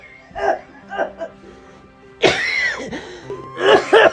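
An ill father coughs in a few loud, close, raspy bursts after some quieter vocal sounds and a short pause, with a second round of coughing near the end.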